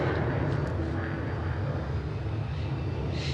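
A Boom XB-1 supersonic jet takes off in Mojave, California, giving a steady, loud, broadband engine roar that holds without letup throughout.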